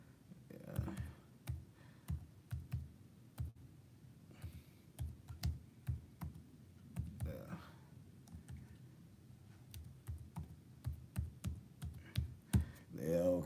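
Steady clicking of keys on a computer keyboard, irregular bursts of sharp taps at a close, quiet level for over ten seconds, with someone talking in between.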